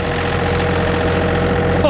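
John Deere 3320 tractor with bucket running while plowing snow, a loud, steady, close diesel engine drone with rhythmic low knocking and a faint rising whine at the end.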